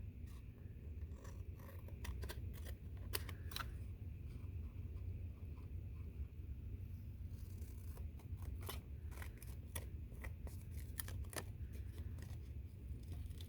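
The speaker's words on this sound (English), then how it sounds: "I'm just going to flip it over and trim off the excess." Scissors trimming excess paper off a slimline card, with repeated short crisp snips spread through, close and fairly quiet over a steady low background hum.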